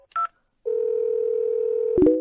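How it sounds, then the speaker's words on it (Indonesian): A telephone handset with a short tone blip, then a steady continuous dial tone held for over a second before a quick dialing tone cuts in as a call is placed to a hospital deputy director. "Aku akan telepon Wakil Presdir Chen."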